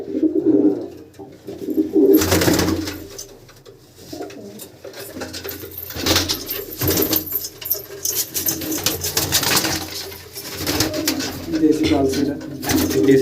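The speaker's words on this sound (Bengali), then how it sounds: "এটা কি লাইনের পায়রা আটসার লাইনের পায়রা আছে" Repeated soft, throaty coos from tournament racing pigeons run throughout, with people talking close by and occasional rustling and fluttering.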